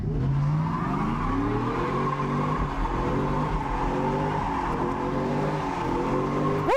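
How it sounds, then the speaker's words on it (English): A supercharged Chevrolet Silverado pickup truck accelerating hard, its engine revving up through rising gears with audible hard shifts, loud and close throughout with no talking. "Well, our supercharged Silverado has a super hard shift."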